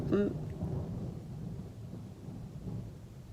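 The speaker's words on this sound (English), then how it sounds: "And the thunder rolls, and the lightning strikes." Low rumbling thunder rolls continuously through the whole stretch, with a faint rain hiss beneath and a brief louder burst at the start, moderately distant and steady.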